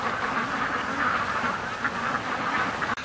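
Ducks quack loudly and continuously at a lake, a dense chorus of many birds close by with a sustained nasal racket throughout and no talk.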